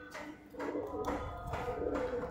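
A pencil-tailed pigeon coos in several soft, throaty pulses at a steady rhythm. It is close and fairly clear, with a little background rumble.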